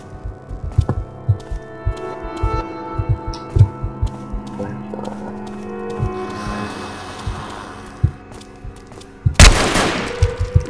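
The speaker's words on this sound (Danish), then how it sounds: "De skal høre med mange skud." Rapid bursts of gunfire from the zombie shooter game DeadEpidemic, sharp repeated shots in an uneven rhythm with a heavy blast near the end, loud and close.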